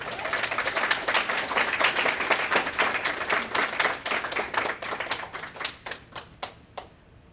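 Audience applause at a Titan Talks 2019 speaking event, a dense burst of many hands clapping that holds steady and then thins to a few scattered, closer claps before fading out.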